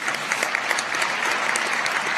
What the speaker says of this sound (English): I want to give a round of applause to all those people